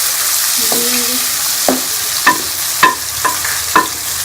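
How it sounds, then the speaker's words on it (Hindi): Steady loud sizzling of garlic-ginger paste and spices frying in a pan, with a few spoon taps and scrapes against the metal as it is stirred. "इसको अच्छी तरह से भून लेंगे"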